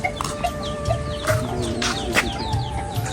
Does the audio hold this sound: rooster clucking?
yes